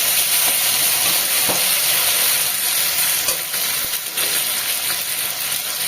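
Halved tomato and green chillies fry in a hot pan with a loud, unbroken sizzling hiss, plus occasional clicks and scrapes as they are stirred.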